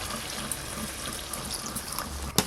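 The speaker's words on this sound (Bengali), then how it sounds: "জল" Water pours into a cooking pot holding partly boiled greens, stalks and pumpkin for a hilsa fish curry, making a soft, steady splashing trickle that stays fairly quiet and close, ending with a brief clunk.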